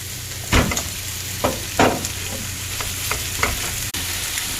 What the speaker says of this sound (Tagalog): In our hot pan, our onion and green pepper.